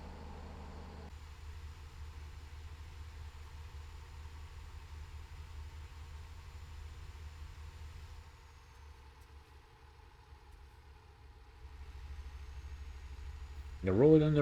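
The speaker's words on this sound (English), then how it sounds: "your truck moving" A truck engine in Euro Truck Simulator 2 hums steadily at a low idle-like drone for the whole stretch, dipping slightly midway, with a brief louder burst at the end.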